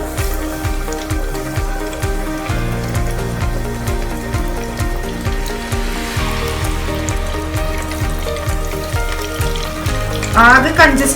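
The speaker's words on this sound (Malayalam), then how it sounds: "അപ്പോൾ നമുക്ക് ചിക്കൻ പീസസ് ഇട്ട് കൊടുക്കാം." Chicken pieces dropped into hot oil for broast fry with a steady, close sizzle, while a repeating low rhythmic thump, likely background music, runs throughout and a brief burst of bubbling flares near the end.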